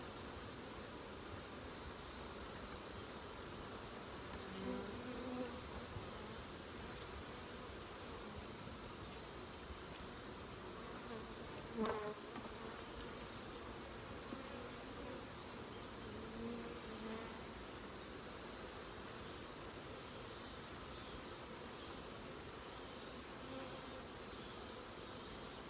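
Honey bees hum in a low, steady drone during a hive brood frame inspection, with a faint persistent high whine and a few soft knocks from handling the frames, with no talking.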